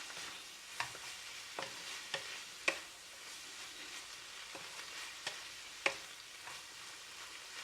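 Cabbage with pork stir-frying in a pan, a steady frying sizzle broken by scattered clicks and scrapes of a utensil against the pan, with no voices.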